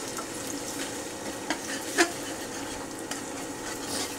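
Eggs frying in a pan beside fried onions, a quiet steady sizzle with a few soft clicks and scrapes of stirring.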